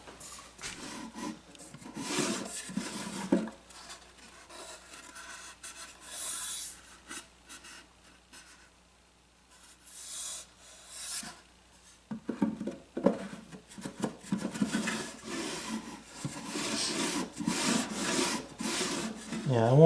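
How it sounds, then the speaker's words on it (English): Hand sanding a wooden jewelry case drawer: rhythmic rasping strokes in bursts, with a quiet pause midway before the scraping picks up again, close and steady. "a little sanding is going to loosen things up"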